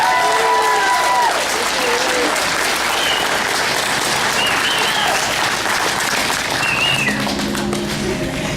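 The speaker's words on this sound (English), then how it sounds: "let's give a big round of applause for Lori Neadeau." Applause from a crowd at a Red Lake College graduation ceremony in 2011, steady and dense for the whole stretch, with faint voices calling out over it and a brief tone near the end.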